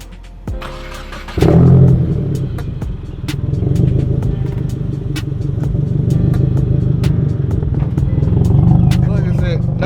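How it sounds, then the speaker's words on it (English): A 2024 Subaru WRX with a titanium exhaust is started warm: a brief crank, then the engine catches with a loud burst and settles into a steady, throaty idle close by. "It won't be a cold start, but I'll go ahead and start it up for you guys."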